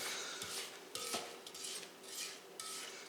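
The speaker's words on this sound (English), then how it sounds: "Now I just want to scrape down the bowl." A spatula scrapes around a mixing bowl of French butter cookie dough for Breton sablés, making several short, close scraping strokes and light clatters.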